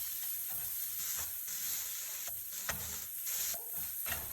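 Food cooking in a pan for a Hello Fresh meal, sizzling and frying steadily with bursts of hissing and spatula stirring scrapes recurring every second or so, close and continuous with no talk.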